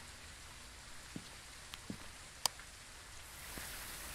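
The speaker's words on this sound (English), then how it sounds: "Oh, the rain is loud." Steady rain hiss from the video game Phasmophobia, a constant broadband wash with a few faint taps and clicks, swelling slightly louder near the end, with no voices over it.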